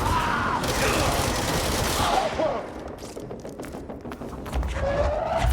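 Gunfire in the game Control, heavy and continuous at first, then thinning into scattered shots among other action noise.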